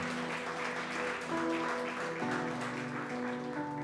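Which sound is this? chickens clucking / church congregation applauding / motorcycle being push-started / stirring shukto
church congregation applauding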